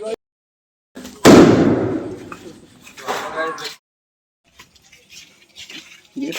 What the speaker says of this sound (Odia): ଦେଖ ଭାଇ ଏମିତି ବାଣ ଫୁଟିଲା ମାନେ ତା ଷ୍ଟିଲ ଟାଇଲ ଝଳିବ ଏକାଥରେ